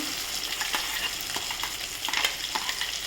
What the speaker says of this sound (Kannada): ಈಗ ನಾವು ಮಿಕ್ಸಿ ಮಾಡಿಟ್ಕೊಂಡ ಮಾವಿನಕಾಯಿ ಪಲ್ಪನ್ನು ಇದಕ್ಕೆ ಸೇರಿಸುವುದು